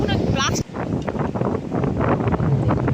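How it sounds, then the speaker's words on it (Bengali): Strong stormy wind gusts across a rainy village field where fishing nets are set, a loud, continuous roaring buffet of air over the microphone with faint muffled talk beneath. "হাওয়াটা দেখুন আর মাঠে দেখুন পুরো জল ঝড়ের গতি"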